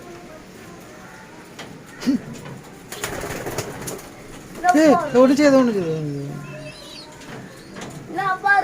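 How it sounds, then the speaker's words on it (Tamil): Racing pigeons in a newly built loft give soft, rolling coos, most clearly in a short burst midway through, while someone talks nearby over faint background noise. "இதுதான் ஒரு புறா"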